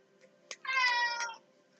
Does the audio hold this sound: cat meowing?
yes